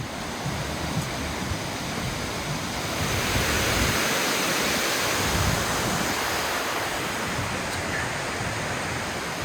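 A powerful river rushes through a rocky gorge at The Torrs in New Mills, its loud, continuous roar filling the air with steady broadband noise and some wind buffeting, and no voices.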